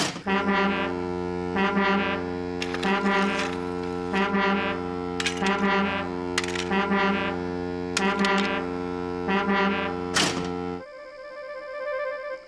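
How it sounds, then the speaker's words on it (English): A deep, loud railway foghorn sounds in a series of repeated blasts with short gaps between them, then a different, higher tone takes over near the end. "It's a new invention, a railway foghorn, said the Fat Controller."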